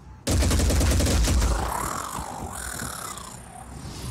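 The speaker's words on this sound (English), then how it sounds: "Flinging that many bullets." Overwatch gunfire in the turn-based strategy game Phoenix Point: a loud, dense burst of rapid shots that fills the opening seconds, then trails off into a fading mechanical whine and rattle.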